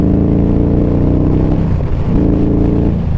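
An Indian Scout motorcycle fitted with a Reinhardt exhaust revs loud and close, a deep throaty rumble that dips briefly then climbs back as the throttle is blipped, with no talking over it.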